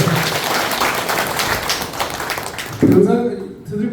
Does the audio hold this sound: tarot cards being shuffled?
no